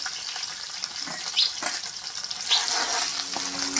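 Curry leaves, dried chillies and ginger-garlic paste frying in hot oil for Gujarati village-style bottle gourd and chana dal, giving a bright crackling sizzle with sharp spits and pops, close up.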